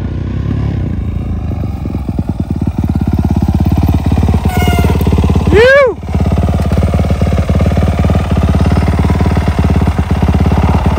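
A Yamaha YZ250F dirt bike engine runs close by at a steady, buzzing pace throughout, with a passing whine near the middle and no talk over it.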